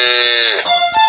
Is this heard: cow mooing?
yes